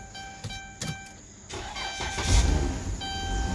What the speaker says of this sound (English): The van is running.